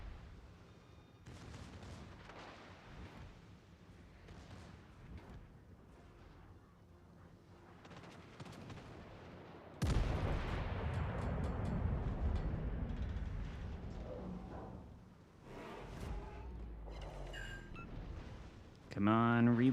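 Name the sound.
battleship guns firing in World of Warships: Legends video game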